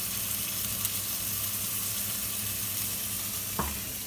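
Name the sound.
Cajun-seasoned chicken sizzling in a pan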